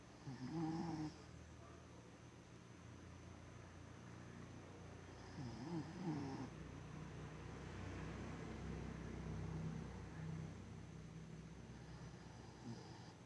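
A dog snores loudly in steady, rhythmic breaths, each inhale a rough rattling snort, repeating several times close by with a constant low background hum.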